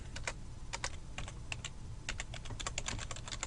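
Quiet, steady typing on a computer keyboard, irregular clusters of soft key clicks throughout, close to the microphone with no speech.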